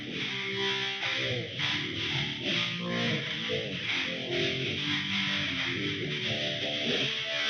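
A heavily processed, distorted tonal signal from a spectral delta processing plugin, with a swirling, pulsing quality that swells and recedes in a steady rhythm, continuous throughout.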